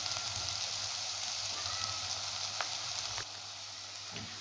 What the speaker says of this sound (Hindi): इसे भी हम लो मीडियम फ्लेम पर हिलाते हुए थोड़ा सा भून लेंगे ताकि लहसुन का भी कच्चापन खत्म हो जाए